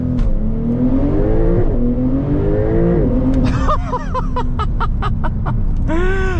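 A 2024 Porsche 911 Turbo Cabriolet in Sport Plus mode launches hard, its engine roaring loudly and rising in pitch through rapid gear changes, with tyre and wind noise close inside the cabin.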